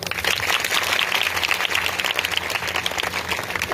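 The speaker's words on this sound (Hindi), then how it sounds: "भाई के लिए ताली बजाइए" Audience applause inside a church during a sermon, a steady dense wash of clapping filling the room from start to finish, close and fairly loud, with no speech over it.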